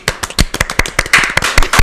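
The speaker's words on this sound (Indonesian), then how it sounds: "Tepuk tangan dong." Students at a junior high school assembly in Depok clap in sharp, loud, closely spaced claps, an irregular burst of individual hand claps close to the microphone lasting about two seconds.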